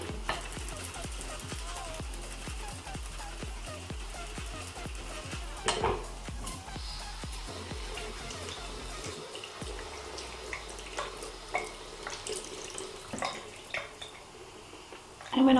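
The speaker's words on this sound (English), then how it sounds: "I'm actually going to just rinse off the soap" A makeup brush rinsed under running tap water, with splashing and dripping over a steady flow, broken by intermittent clatters and handling knocks.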